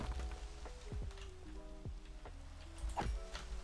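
Minecraft rain, a soft steady patter of game raindrops under scattered short chimes and effect sounds, faint and continuous throughout.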